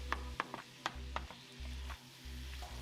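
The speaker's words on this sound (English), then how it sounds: "Add your ground beef and chop it into little pieces." Ground beef being chopped into small pieces in a pan of onions and garlic for Filipino giniling: a quiet series of sharp, irregular taps from the utensil over a faint low sizzle.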